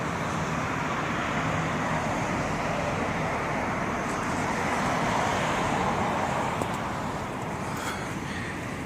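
Steady roadway traffic noise fills the scene as cars pass by continuously, a broad dense wash with light wind rumble and no speech.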